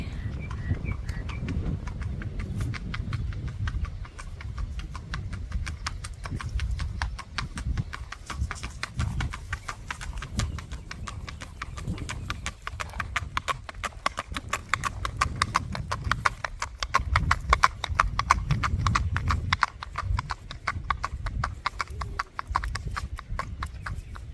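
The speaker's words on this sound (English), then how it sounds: "The sound of a good walking horse." Tennessee Walking Horse gelding's hooves clip-clop steadily in a quick, even rhythm on a hard surface for the whole stretch, close and clear with no talking.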